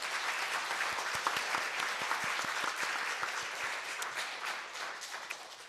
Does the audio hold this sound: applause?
yes